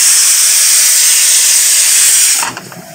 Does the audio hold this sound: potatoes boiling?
yes